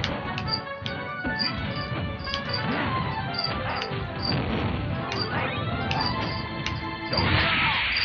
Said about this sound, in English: Did not try to smash, but I smashed.